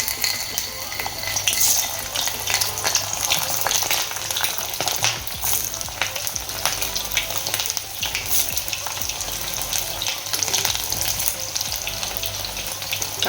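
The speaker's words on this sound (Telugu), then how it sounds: "ఇవి డీప్ ఫ్రై చేసుకుందాం" Bitter gourd pieces deep frying in hot oil make a dense, continuous crackling sizzle that stays loud and close throughout, with no talk.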